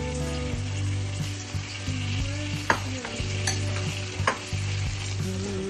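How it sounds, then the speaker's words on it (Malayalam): Chopped broccoli fries with olive oil and garlic in a pan, a steady sizzle with scattered stirring scrapes and clinks from a utensil, plus a low constant hum in the background and no voices. "കട്ട് ചെയ്ത് വെച്ചിരിക്കുന്ന ബ്രോക്കലി ആഡ് ചെയ്ത് കൊടുക്കാം."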